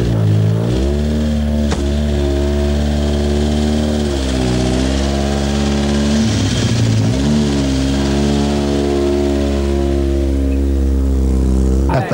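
A 1983 San Remo Rally car engine roars loudly and close, holding high revs with shifting pitch as it changes gear and passes by, the drone continuing throughout with faint commentary beneath.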